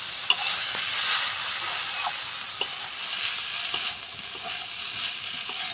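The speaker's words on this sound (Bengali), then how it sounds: "এরকম করে নাড়তে হবে, একদম ঝরঝরে যখন ভাজা হয়ে যাবে তখনই হবে।" Green beans sizzling in a pan in a village kitchen, stirred steadily over low heat, giving a constant frying hiss broken by occasional soft scrapes and clicks of the spatula.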